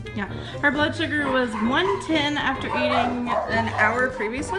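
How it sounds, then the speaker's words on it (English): Dogs bark in the background while someone talks over them, the yips and bow-wows mixing with her steady speech throughout. "So sorry for the barking dogs."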